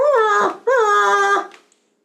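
A dog whines in two long, high, nasal cries with a brief break between them, loud and close, trailing off into silence at the end.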